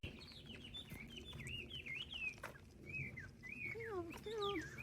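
Several birds chirp and whistle in rising and falling tweets, fairly close, over a quiet outdoor background at an abandoned house in Japan.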